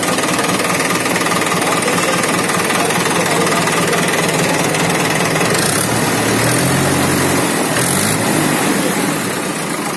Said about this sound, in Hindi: ये देखो भाई स्टार्ट हो गया ट्रैक्टर।